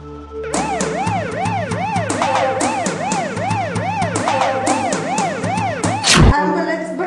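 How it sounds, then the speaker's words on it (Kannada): Ambulance siren wailing close by, a rapid rising-and-falling electronic tone repeating steadily for several seconds before a sharp cutoff. "ಆಂಬುಲೆನ್ಸ್ ಬಂತು, ಹಾಸ್ಪಿಟ್ಲಿಗೆ ತಗೊಂಡು ಹೋದ್ರು"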